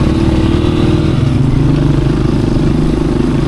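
A loud off-road motorcycle engine runs up close on a jungle trail to Pos Balar, Malaysia, revving and shifting pitch with a rough, throbbing rhythm and mechanical clatter throughout.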